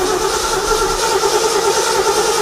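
A carbureted truck engine, the Tater Truck, runs loud and close in a garage, a steady rough idle with an even droning rumble and no talk.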